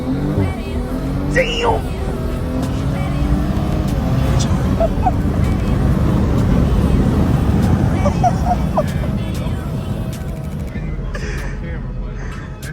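A BMW M340i xDrive launches hard from a stop, its engine and road noise building to a loud, sustained rush heard from inside the cabin, with excited voices exclaiming over it.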